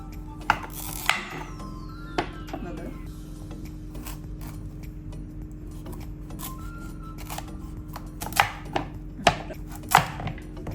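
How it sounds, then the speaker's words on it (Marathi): A knife slices through pieces of Kashi pumpkin on a cutting board, with several sharp chopping knocks, the loudest bunched toward the end, over a low steady background hum. "आता या पार्टचं पण मी असं काप करून घेते"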